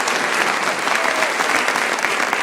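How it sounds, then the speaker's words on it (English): A political event crowd in Hardee County, Florida, applauds military veterans with dense, loud, sustained clapping that fills the room without a break. "Big round of applause for our military."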